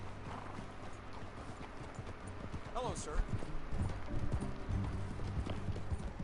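Horse hooves clip-clop at a steady riding pace in Red Dead Redemption 2, a rhythmic clatter running throughout while a man and woman exchange a few words over it.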